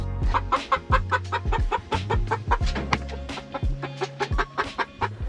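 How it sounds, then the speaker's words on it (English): Backyard coop chickens cluck in quick, overlapping bursts, close by and lively, with no talking. "we're gonna grab the chickens"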